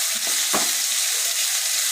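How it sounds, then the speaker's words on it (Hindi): Raw onions sauté in hot oil in a karahi for chapli kabab, a steady close sizzle and crackle with a couple of brief stirring scrapes. "थोड़ा सा इसको सौते करेंगे"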